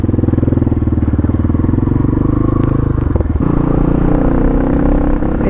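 A Pitsterpro XTR250 pit bike engine pulls in first gear, a loud, steady buzzing drone that stumbles briefly near the three-second mark before carrying on, close and alone without talk.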